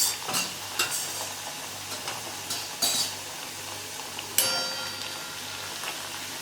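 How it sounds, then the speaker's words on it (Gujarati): Farsi puri, a Gujarati fried snack, frying in oil, with a steady close sizzle broken by sharp crackling bursts and occasional utensil scrapes as the puris are turned in the pan. "આ પૂરી અહીંયા હું તેલમાં તળું છું"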